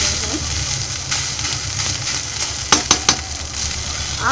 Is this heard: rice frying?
yes